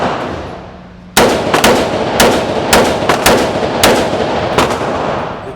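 A SIG Rattler, a very compact gun, fires about eight or nine sharp, loud shots in an irregular string of single cracks and quick pairs, each echoing briefly outdoors.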